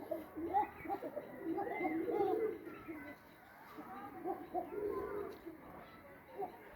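Koka pigeons cooing in a loft, soft repeated low coos from several birds, fairly faint, with a person speaking nearby.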